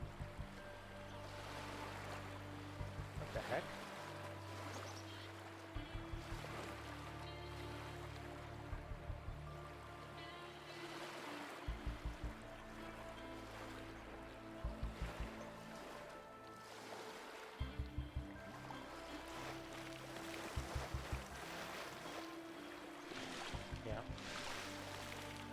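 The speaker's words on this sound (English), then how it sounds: "So this is the limit, and it's just there's a lot of lapping water." Water laps steadily at a shoreline in The Talos Principle 2, a continuous wash of small waves with soft recurring swells, heard under a brief spoken exclamation.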